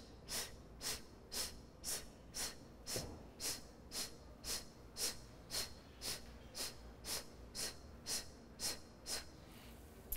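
About twenty quick, forceful breaths in a steady rhythm during a yoga breathing exercise, each a sharp, close puff of air with short gaps between.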